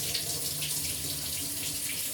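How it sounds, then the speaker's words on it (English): Warm water runs steadily from a kitchen tap, a continuous close hiss and splash of flow filling a container, with no speech. "So put some more warm water."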